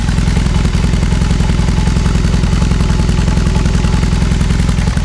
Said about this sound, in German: Auf jeden Fall kann man dieses Motorrad hören und immer gut anschauen